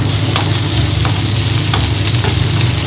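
Onions frying in a pan for a gluten-free Indian-style pizza, a loud continuous sizzle close up with a few soft stirring scrapes, no talking.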